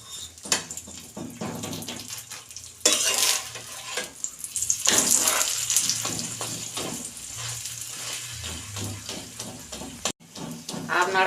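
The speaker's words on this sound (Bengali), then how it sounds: "এটা আমি সাদা তেলেই ভাজছি।" Aloo paratha fries in white oil with a close, irregular sizzle and popping, while a voice talks over much of it and a few brief clanks sound from a utensil.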